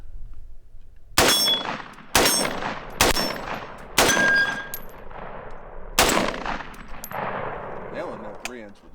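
7.62 rifle rounds fired at steel targets from 25 yards, with five loud, close booming shots spaced about a second apart, each followed by a ringing metallic clang and a decaying echo.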